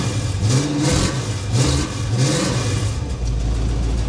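A 1977 Chevy Monte Carlo V8, revived after sitting for many years, runs loudly up close and revs in several rising and falling pulls before settling toward idle.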